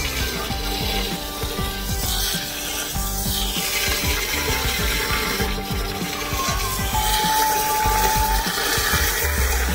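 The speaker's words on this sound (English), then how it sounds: "And I bought this 50-pounder sandbag. Put some in there." Sand from a 50-pound bag poured slowly into an Intex Krystal Clear sand filter pump tank, giving a continuous gritty rushing hiss with scraping and rubbing sounds close up.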